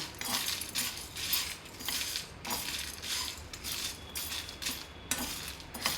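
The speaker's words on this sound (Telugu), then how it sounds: "అన్ని పప్పులు వేసి ఒకసారి వేయించుకోవాలి ఎండుమిరపకాయలు కూడా వేసి వేయించుకోవాలి నూనె ఏం అవసరం లేదు డ్రై రోస్టే చేసుకోవాలి" Lentils and dried red chillies dry-roasting in a pan without oil, with repeated scraping and clinking of a spoon against the metal in irregular bursts, fairly close and moderately quiet, with no talk.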